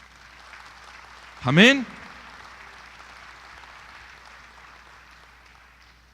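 A crowd applauds steadily, the clapping tapering off slowly, after a single loud shout from one voice.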